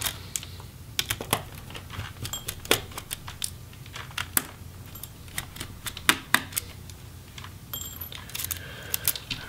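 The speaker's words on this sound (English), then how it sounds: "we are good to remove those motherboard screws" Screws being removed from the motherboard of an Acer Aspire 5 A515 laptop: close, quiet, irregular clicks and small metallic taps from a screwdriver and loose screws, scattered throughout.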